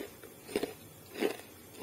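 Two crisp bites into cooled, double-fried crunchy kuih buah rotan coated in sesame, each a short close crunch about half a second apart, with quiet pauses between.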